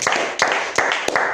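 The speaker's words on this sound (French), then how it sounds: "Applaudissons pour le Seigneur Jésus." Audience applause at a French-language Christian worship service praising Jesus, a few sharp bursts of clapping about every 0.4 seconds, close and fairly loud, with no voices over it.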